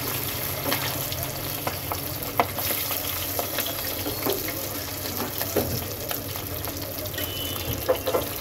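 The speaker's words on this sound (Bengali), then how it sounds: "তো চলো সবগুলো মাছ এখন ভেজে নেব।" Tengra fish frying in hot oil in a wok: a dense, continuous close-up sizzle peppered with small spattering pops throughout.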